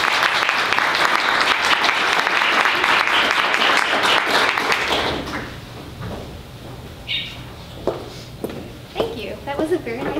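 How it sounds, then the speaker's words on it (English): Audience applause for a poet at a bookstore reading, dense clapping for about five seconds that fades out, followed by a few scattered claps, shuffling and faint room sounds. "Let's give her a round of applause."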